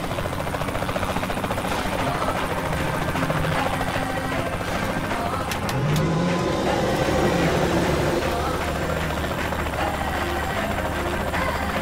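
A helicopter in Saints Row The Third Remastered: steady rotor thrum and engine drone carry on throughout, loud and continuous, with some faint game effects mixed in.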